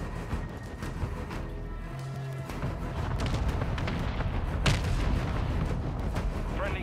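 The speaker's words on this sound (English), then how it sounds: "Our mortar strike is inbound." Mortar strike explosions in Call of Duty: Modern Warfare II boom as steady rumbling artillery fire with a sharper blast partway through, loud and continuous, under radio chatter.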